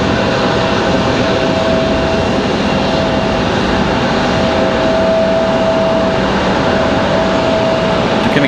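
An Air Canada airliner arriving at Raleigh-Durham International Airport produces a loud, continuous engine roar with a thin steady whine, filling the whole stretch without letup and no talking over it.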